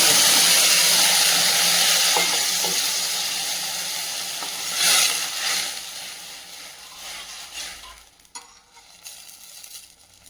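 Lemon juice sizzling as it hits a hot pan of lemon rice seasoning, a steady bright hiss throughout with brief stirring clinks, fading toward the end.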